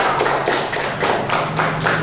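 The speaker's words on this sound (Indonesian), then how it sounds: "Tepuk tangan dulu." Steady applause from a group in a classroom, a dense patter of claps continuing evenly for a couple of seconds.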